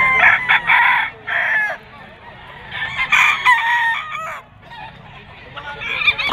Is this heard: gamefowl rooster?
yes